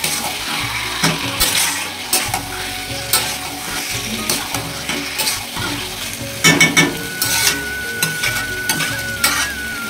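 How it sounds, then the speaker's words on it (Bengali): Yogurt-marinated chicken sizzles and fries in a pan as a spatula stirs and scrapes it, loud and close, with repeated clatters of metal on the pan over a constant frying hiss. "ওই জলের মধ্যেই ভালোভাবে কষি রান্নাটা করে নিতে হবে।"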